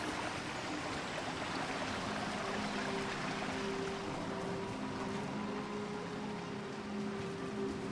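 Waterfall in Disney Dreamlight Valley, a steady broadband rush of falling water, moderately faint and constant throughout, with a few soft tonal game sounds drifting over it and no talk.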